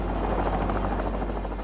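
A rescue helicopter flies over the deep snow of the 1963 Big Freeze, its rotor thrumming in a loud, steady, close pulsing drone with no voices.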